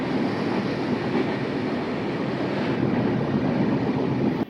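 A crowded local train in Bangladesh runs with a steady, loud rumble and rattling carriage noise throughout, with no voices clearly heard.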